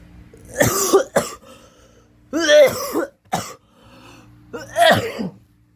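A man with flu coughs close to the microphone in three separate harsh bursts, each a cluster of two or three hacking coughs with throat-clearing, separated by quiet pauses.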